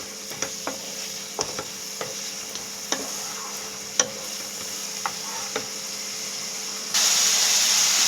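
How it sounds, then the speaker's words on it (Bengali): Spices being sautéed and stirred in a pan for a chicken dish: a steady sizzle under regular scraping strokes of the spoon about once a second, close and clear, growing louder near the end, with no talking. "এবার এটাকে আমি কষাবো ভালো করে মশলাগুলোকে।"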